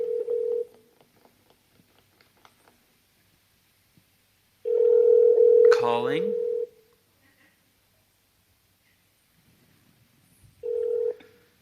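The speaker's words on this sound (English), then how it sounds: "So my phone is calling." A mobile phone places an outgoing call, giving a steady ringback tone in repeated bursts separated by long silences, with a brief warbling electronic tone midway; quiet room background, no talk.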